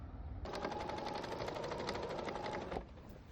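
A sewing machine stitches a seam on a pair of jeans in one continuous rapid whirring run of about two seconds, close and fairly quiet, then stops.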